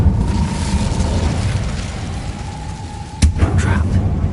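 An Incendio fire spell erupts in a video game as a loud, steady roar of flame, with a sharp blast bursting out near the end over a faint held tone.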